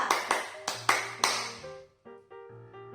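Rhythmic clap game led in a presentation session: a group claps in a quick pattern of sharp claps, then a shout, followed by a short pause and a few trailing taps.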